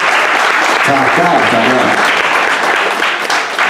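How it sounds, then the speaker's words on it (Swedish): Concert crowd applauding a band member at his final gig, a loud, sustained wash of clapping throughout, with someone briefly speaking over it early on. "Jag tycker vi börjar med att ge honom en stor applåd."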